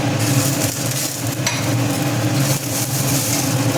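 Onions fry in a pan for malli chammandhi, a Kerala coconut chutney, with a loud, continuous sizzle and some stirring scrapes, and no talking.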